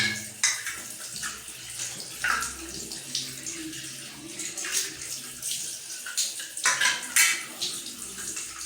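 Plastic canary cage parts are rinsed under a stream of hot tap water, a continuous splashing wash with occasional knocks and rattles of the pieces being handled.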